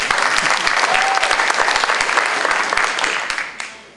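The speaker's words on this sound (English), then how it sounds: "she can have applause" A room at a federation membership meeting breaks into applause, brisk overlapping claps from a modest group that hold steady, then taper off and fade near the end.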